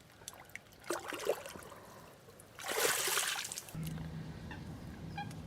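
A common carp slipped back into the lake makes a brief watery rush and splash, close and soft, followed by a low steady background hum with faint drips and no speech.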